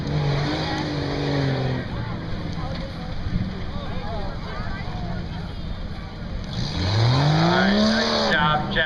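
Four-wheel drive mud trucks race at a motorsports park, engines roaring loud and steady with rising revs near the end, a public-address voice talking over the noise.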